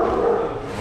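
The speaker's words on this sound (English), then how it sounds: "Dog barking." A dog barks inside a pet store, a close, loud, sustained yelping bark blending into the indoor room noise with no talking.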